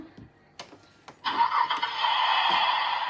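A toy car engine starts up with a few clicks, then settles into a loud, steady electronic whirring drone that continues to the end.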